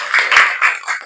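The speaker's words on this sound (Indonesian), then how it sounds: "Bagus, tepuk tangan dulu." Classroom students clap their hands together in a short, loud burst of applause, four quick uneven swells of clapping lasting about a second, with no talking.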